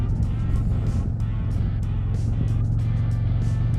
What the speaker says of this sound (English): this bike does like to run up in the higher RPMs with this cam that happens to be on these bikes